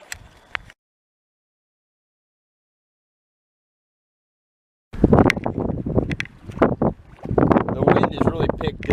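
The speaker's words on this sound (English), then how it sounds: "The wind has really picked up." Strong wind gusts across open water during a fishing trip, buffeting the microphone in rough bursts after a few seconds of near silence.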